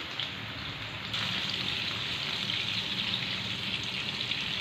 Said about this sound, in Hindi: मैं बिल्कुल लो फ्लेम पे इनको फ्राई करूंगी 10 मिनट एक साइड से